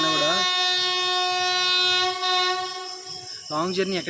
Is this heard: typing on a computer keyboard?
no